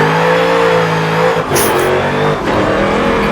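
A Porsche race car engine in a racing video game revs hard and holds a high, steady drone, briefly dipping as it shifts gears before climbing again, loud and close.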